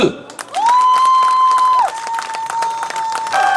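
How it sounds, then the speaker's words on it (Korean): At an outdoor street culture festival, the audience claps and cheers loudly for a singer's performance, while a long sustained tone hangs over the scattered claps. "박수 한번 주세요."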